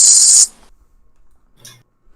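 A voice imitates a shaking spray paint can, giving one loud, hissing, rattling burst of about half a second. A brief faint sound follows after a pause.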